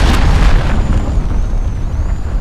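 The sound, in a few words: cruise missile explosion in video game Call of Duty Modern Warfare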